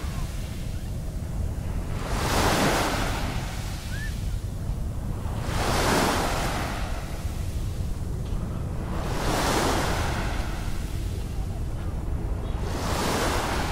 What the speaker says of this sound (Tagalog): Ang alon ay humahalik sa pisngi ng dalampasigan.